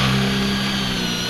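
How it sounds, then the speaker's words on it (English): A power drill bores out a rusted rivet on the body of a 2003 Club Car golf cart, giving a steady, close, loud whine that holds even and strong through the short moment with no talking. "I would just get the drill with the drill bit and just drill them out real quick."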